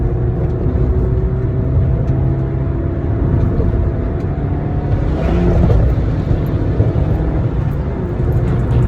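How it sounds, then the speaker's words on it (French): A small Subaru car engine hums and rumbles steadily from inside the cabin, with a slight rise in revs partway through as it accelerates. "on entendait clairement le bruit de la petite Subaru"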